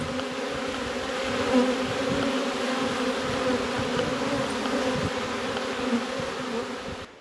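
Outdoors by a group of bees, a dense, continuous buzzing drone holds steadily at close range throughout, with no talking.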